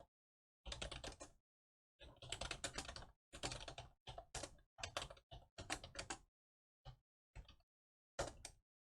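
Close computer keyboard typing while entering data in an Excel spreadsheet, with quick bursts of keystrokes broken by short pauses and a few isolated key presses; no voices.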